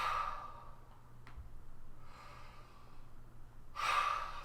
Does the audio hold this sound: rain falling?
no